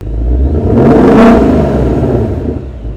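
A loud naturally aspirated V8 engine of a 2024 Ford Mustang GT with an OPF filter revs up with a deep rumbling roar, peaks sharply, then settles back to a burbling idle, close and powerful.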